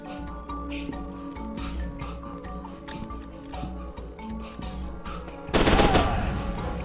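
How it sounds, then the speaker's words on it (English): Gunfire in the first-person shooter F.E.A.R. 2, a dense run of shots layered over game noise and music, swelling into a louder burst of blasts near the end. "what happens if I shoot it with the bad guy coming around the corner?"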